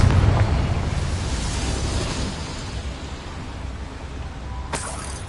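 Confringo spell exploding in Hogwarts Legacy, a deep booming blast that opens loud and rolls off into a long rumbling, noisy tail, followed by a brief sharp crack near the end.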